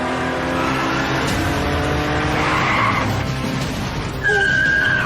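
A sports car speeds recklessly through traffic, its engine roaring loud and steady with tyre squeal rising near the end, heard alone without talk.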